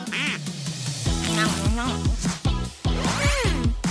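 Toy or pet ducks quack repeatedly in loud, close, nasal bursts, several calls overlapping in quick succession with short pauses between them.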